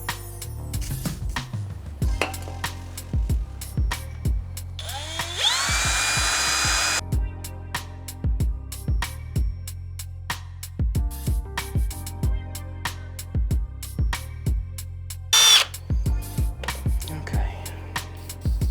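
Power drill boring a hole in an LS2 engine for a heli coil, with WD-40 as cutting fluid; repeated short drill bursts with a longer sustained whine midway, talk in between.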